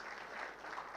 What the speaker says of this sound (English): Give applause for our distinguished panelists.